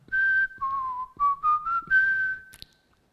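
A person whistles a short tune of several clear, sliding notes in a few phrases, close and alone, ending with a brief click.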